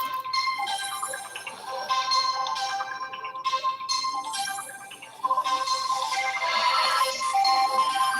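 A mobile phone ringtone plays a bright, repeating melodic tone close by. It rings in steady phrases for several seconds, loud and clear, with no talking.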